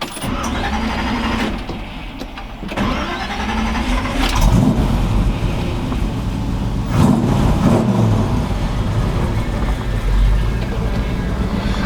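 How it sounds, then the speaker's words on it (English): A 1964 Chevrolet C10 pickup engine cranks and fires up, settling into a steady low idle with a couple of louder revving surges, heard up close and alone for about twelve seconds. "Here, let's start this thing up."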